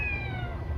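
A cat gives a single short meow outdoors, close and clear, with a faint background hum.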